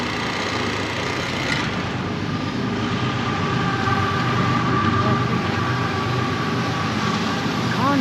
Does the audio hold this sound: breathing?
no